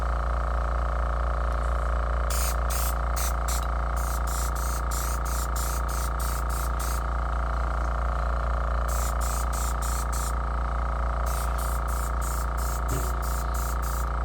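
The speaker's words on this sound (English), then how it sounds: "You can get close with your airbrush and lighten the amount of paint that's coming out of it" An airbrush sprays paint onto a deer antler during repair, a continuous hiss over a steady compressor hum, broken by several short rhythmic bursts of spraying.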